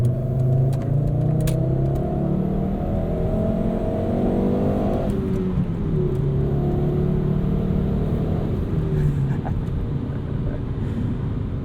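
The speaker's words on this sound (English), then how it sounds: "Stock exhaust is back on. I think it still sounds good" A 1997 Volvo 850 R five-speed with its stock exhaust pulls through the gears, engine note rising in repeated sweeps with shifts between them, heard steadily from inside the car.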